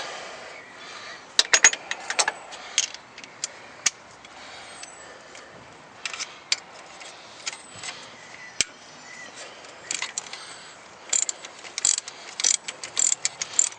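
A ratchet clicks in short, irregular bursts while loosening the 12mm screws on a Nissan Micra K11 during an ignition coil change, close and fairly crisp with brief pauses between runs of clicks.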